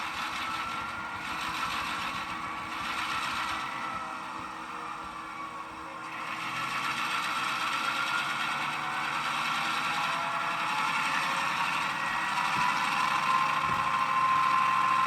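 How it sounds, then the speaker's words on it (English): Athearn Genesis GP9 model locomotive in Central of Georgia livery, its sound decoder playing a diesel engine revving up to notch 8, a steady loud mechanical drone with a rising whine, continuous throughout with no talk. "You're going to have to throw it into notch 8 in real life, and that means you're going to have a very loud engine."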